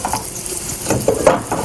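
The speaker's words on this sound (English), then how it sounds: "where you've heated the oil and let it sizzle" Food frying in hot oil in a pan, a close, steady sizzle with small crackling pops swelling slightly toward the end, no voices.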